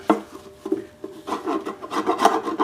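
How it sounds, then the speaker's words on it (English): Coarse 36 grit sandpaper rasping over hardened epoxy on a homemade overhead-valve Briggs engine part, short scratchy strokes at first, then steadier rapid back-and-forth scraping close up. "what I'm going to do is I'm going to hit it with the 36 grit"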